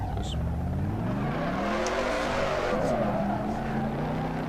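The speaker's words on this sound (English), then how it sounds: "just listen to the engine. It's nice to see that there is an actual engine sound, and it sounds perfect" A Dodge Charger in the Assetto Corsa racing game roars with a continuous engine drone that rises and falls in pitch, tires squealing over it as the car slides.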